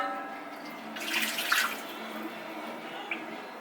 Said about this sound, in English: I put the water in.